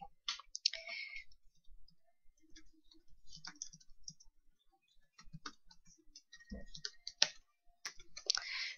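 Computer mouse clicks while adding text in Microsoft Paint: scattered sharp clicks, some in quick pairs, close and quiet against near silence, with no talk.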